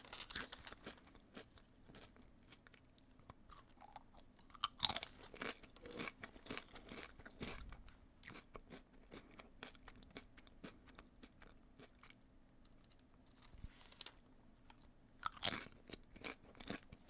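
Crunchy chips being eaten up close, with sharp intermittent crunches and bites and scattered chewing between them, plus occasional crinkles, all fairly quiet and with no talking.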